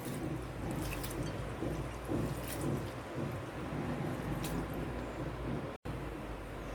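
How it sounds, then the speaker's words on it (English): Rice grains being washed in water for vegetable fried rice, with soft wet squishing and sloshing repeating under a steady watery texture at low level, plus a brief dropout near the end. "Wash it for 2-3 times and then soak it in water for 15 minutes."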